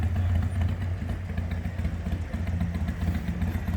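A Harley-Davidson motorcycle engine rumbles with a low, throbbing beat, held steady and moderately close with no speech.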